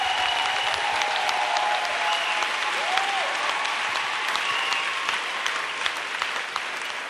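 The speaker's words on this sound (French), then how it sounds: "Let's clap for the Lord Jesus." A church congregation at a missionary send-off in Côte d'Ivoire applauds for Jesus: dense, continuous crowd clapping that holds steady throughout and eases slightly toward the end.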